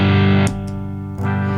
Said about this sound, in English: Not a bad sounding distortion right off the bat. It's a little muddy, in my opinion, once we start cranking things up.